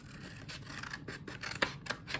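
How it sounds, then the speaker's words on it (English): Scissors snipping through colored construction paper to cut out squares for a pop-up winter village craft, a series of short crisp close cuts coming in an uneven rhythm. "take a colored construction paper and just kind of cut out a couple squares"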